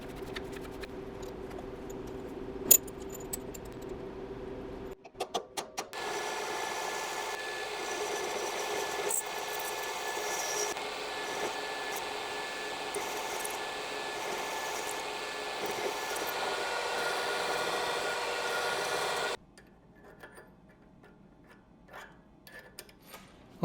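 A machine steadily grinds down a transmission part for a 1972 Triumph GT6, giving a continuous whirring, rasping sound for about fourteen seconds, with quiet workshop ticks and knocks before and after.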